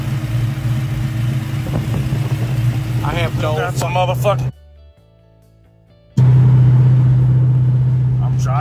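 A 1970 Chevrolet Chevelle fitted with EFI rumbles steadily while being driven, loud and close with a low engine drone, cutting out for a moment and then returning stronger; someone talks over it.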